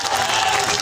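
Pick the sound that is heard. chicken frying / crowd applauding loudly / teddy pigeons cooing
crowd applauding loudly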